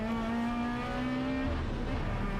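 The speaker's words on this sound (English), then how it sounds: "there is the Adcock Waters car, hammering its way down through the old hairpin" The Adcock Waters race car in a Club Sport Trophy club race hammers down through the old hairpin, its engine blaring loud and close with a strong, steady harmonic whine.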